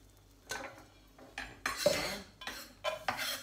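A spoon stirs garlic and onions in a pan, producing a run of close, distinct metallic scrapes and clinks against the pan that come in uneven bursts, with no talking.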